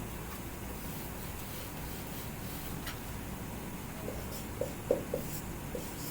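Faint scratching of marker or chalk on a classroom board during a maths lesson, in a quiet room with a few soft taps near the end.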